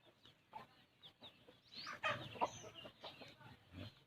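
A young Burmese rooster, about five months old, clucks in a few brief, faint bursts, with a louder flurry near the middle, amid low background noise.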